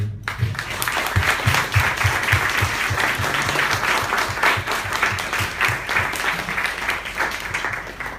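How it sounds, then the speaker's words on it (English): Audience applause rings out for a guest at a Bits-N-Bytes conversation event, a dense, steady wash of many clapping hands held at an even level for several seconds, with low thumps underneath. "please round of applause for"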